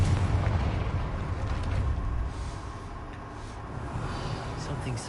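Rumbling blast from a Confringo spell in the Hogwarts Legacy video game, a loud, dense roar that fades slowly over several seconds, with a voice casting the spell.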